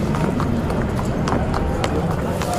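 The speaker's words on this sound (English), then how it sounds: "the horses move from the stables to beneath the grandstand" Racehorses moved from stables to beneath the grandstand at a racecourse, hooves clip-clopping in an uneven, overlapping rhythm at moderate distance, under a voice narrating.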